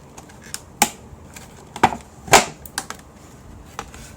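Scissors snip through hard plastic packaging around a boxed speaker, giving a few sharp, separate cracks and clicks close by with quiet pauses between, and no talking.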